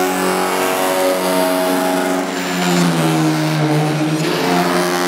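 An engraving motor running over an iron sheet to mimic a fighter plane gives a steady, loud droning whine with sustained harmonic tones that slowly shift in pitch, heard alone for about five seconds.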